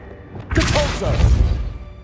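A Depulso force spell cast in the video game Hogwarts Legacy, a loud whooshing blast with a low thudding impact that swells and holds for about a second and a half over game ambience.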